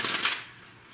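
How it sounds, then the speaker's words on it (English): A deck of cards is riffled in one quick, crisp shuffle that fades into quiet. "We'll give it another shuffle."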